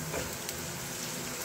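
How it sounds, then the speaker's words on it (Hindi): Onions frying in a pan for egg curry, a steady soft sizzle that hisses evenly throughout, faint and close with no talk. "प्याज को हमें फ्राई कर लेना है ट्रांसलूसेंट हो जाने तक"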